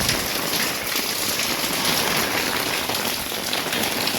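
Heavy rain pours steadily at a fort, a dense, loud, unbroken hiss of drops drumming on surfaces close by, with no voices.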